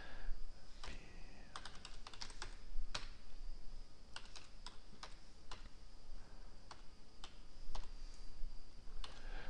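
Typing HTML code on a computer keyboard, a quiet stream of irregular key clicks and taps over a faint background hiss, with no voices.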